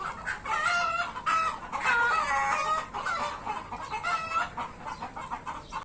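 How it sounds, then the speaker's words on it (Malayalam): A flock of chickens clucks busily nearby on a farm in Bahrain, with a rooster's drawn-out crowing rising over the chatter in overlapping bursts. "കുറച്ച് കോഴികളുണ്ടേ."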